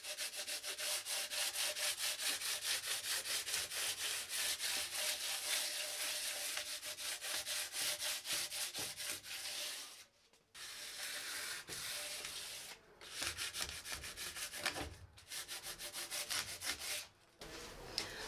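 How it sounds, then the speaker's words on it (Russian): Sanding mesh rubbed over sharp plaster brick-effect edges, close rhythmic scraping strokes that run steadily and then stop and start in short pauses. "Берем шлифовальную сетку или шкурку какую-то"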